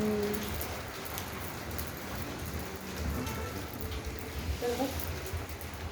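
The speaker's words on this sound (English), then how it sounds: "It's raining very hardly." Heavy rain falls steadily in India, a dense constant hiss of drops close by and loud, with no voices.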